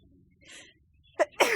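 A person sneezes outdoors during spring allergies: a soft breathy intake, then two sharp, close sneezes in quick succession, loud and abrupt at the end.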